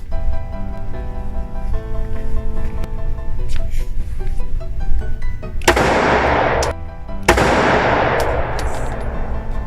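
Pistol shots at a gun range ring out as two loud, sharp cracks with long, noisy echo tails, following a stretch of steady background music and indistinct room noise.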